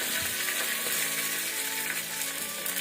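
Tempering spices spluttering and sizzling in hot oil for a yam (suran) stir fry, a steady, dense crackling hiss throughout with no talk.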